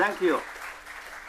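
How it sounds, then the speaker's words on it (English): Audience applause after a lecture on the international law of cyberspace, heard as a soft wash of clapping under a brief spoken thank-you at the start, then continuing faintly for about a second. "Let us congratulate and thank all speakers by giving them a big round of applause."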